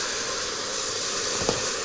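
Water poured into a hot pan of frying aubergine makes a steady broad hiss of steam, with a brief sharper sizzle burst near the end.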